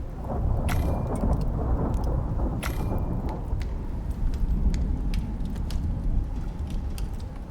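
Thunderstorm in the survival game Icarus: heavy, steady rain roars throughout with low rumbling thunder, and sharp crackles of close lightning strike near the start.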